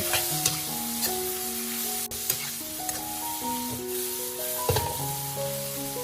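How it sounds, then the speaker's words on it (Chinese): Lamb being stir-fried in a pan just after a splash of vinegar, a continuous hissing sizzle with scraping stirs, and tuneful background music running underneath. "接下来加入一点点香醋，激发出香味，快速翻炒均匀。"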